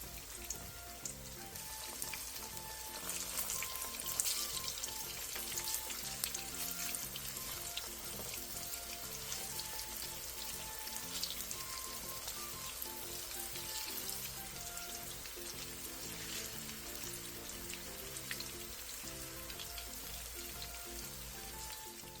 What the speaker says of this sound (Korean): 팬에 기름을 넉넉하게 두른 뒤 두부를 넣고 노릇노릇하게 튀기듯이 구워주세요